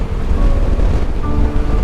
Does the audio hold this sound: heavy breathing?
no